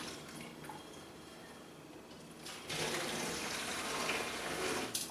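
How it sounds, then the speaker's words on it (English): Home brew poured through a strainer into a jug, heard first as a faint trickle, then from about 2.7 seconds a steady, louder broadband splashing and gushing flow continuing to the end. "I'm just going to start pouring this back in the jug through the strainer"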